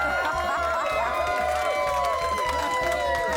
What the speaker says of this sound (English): Give him a cheer, he's your team, mate.